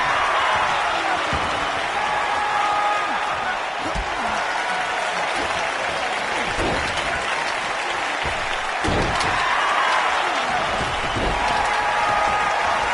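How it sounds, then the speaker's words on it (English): Loud, raucous arena crowd roars and applauds throughout a wrestling video game match, a steady dense wall of cheering with occasional thuds of ring action beneath it. "what a raucous crowd here tonight."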